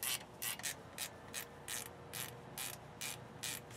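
Ratchet tightening caliper bolts on a 2003 Chevy Silverado during front brake work, quick repeated clicking strokes in an even rhythm, close and fairly quiet, with no talking.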